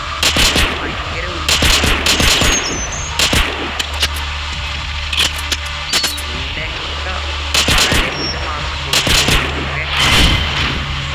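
Rapid bursts of gunfire crack repeatedly through a shooting training mission in a zombie video game, loud, sharp shots in clusters with brief gaps between volleys.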